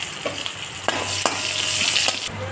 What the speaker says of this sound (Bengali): ওই তেলেই দিয়ে দিচ্ছি পেঁয়াজ কুচি